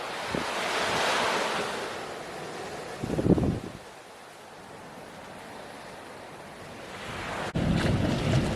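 Ocean waves roll in at Totaranui beach in Abel Tasman National Park on a cold day, heard as broad washing surf that swells and fades, with gusts of wind buffeting the microphone and no talk.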